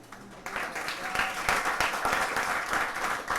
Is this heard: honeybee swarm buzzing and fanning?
no